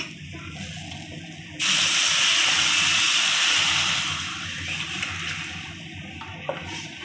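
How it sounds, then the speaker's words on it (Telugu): A pot of chicken soup with mint and chopped chicken boils hard, giving a steady loud hissing bubble that starts abruptly, holds for a few seconds, then settles to a softer simmer. "ఇప్పుడు ఇవి బాగా బాయిల్ అవుతున్నాయి కదండి"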